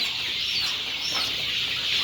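A dense chorus of about 2,000 month-old native chickens clucking and chirping together on a farm in Saudi Arabia, continuous and fairly close, with no pauses.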